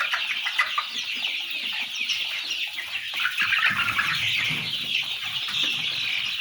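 Young chicks cheep in a dense, high-pitched chorus with some clucking, close and continuous with no talking.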